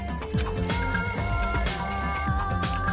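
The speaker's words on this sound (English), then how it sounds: "The lounge's wall clock alarm started ringing at 5:30." A wall clock alarm rings in the video game Danganronpa 2, a steady, loud electronic ringing with sustained bell-like tones over continuous background music, alone without voices.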